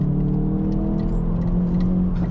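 A Hyundai i30N engine drones loudly and steadily at high revs under hard acceleration, close and continuous, with no distinct exhaust pops standing out.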